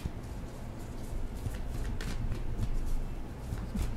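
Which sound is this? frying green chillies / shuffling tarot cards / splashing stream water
shuffling tarot cards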